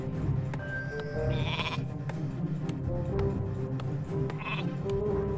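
Sheep bleat a couple of times in the video game Warcraft III amid a busy background of clicks and ambient game sounds, moderately close, with no speech.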